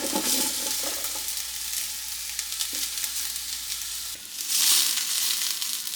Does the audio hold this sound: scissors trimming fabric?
no